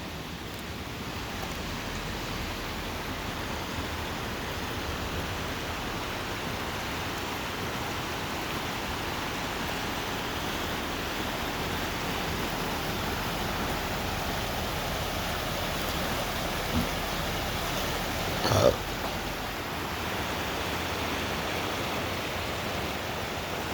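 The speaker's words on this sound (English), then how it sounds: "So peaceful listening to the water." Steady, broadband rush of flowing water from a salmon spawning stream in Juneau, Alaska, continuous and fairly close, with a brief faint knock near the end.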